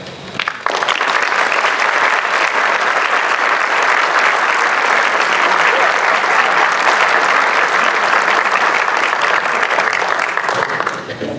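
Audience at a city's State of the City address gives a long, steady round of loud applause for the city manager, sustained clapping from a large crowd lasting about ten seconds before tapering off.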